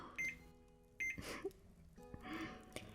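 Microwave oven being set to start with a series of short, bright beeps in quick bursts, separated by faint handling clicks, close up and alone in a quiet kitchen.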